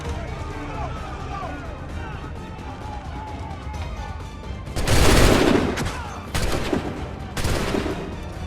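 Musket volley gunfire in Assassin's Creed 3: after a stretch of shouting voices and battle noise, two or three loud, crackling volleys burst out in quick succession, close and dominant.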